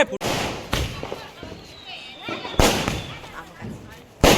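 Several sharp Diwali firecracker bangs burst at irregular intervals, loud and nearby, with people's voices between the blasts.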